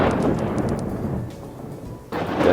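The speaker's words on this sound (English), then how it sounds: "And the thunderstorms are barraging the dwarves as usual." Thunder rolls from a thunderstorm in the WorldBox video game, a loud sustained rumble that fades and then breaks into a fresh, sharp crash near the end, with no talking.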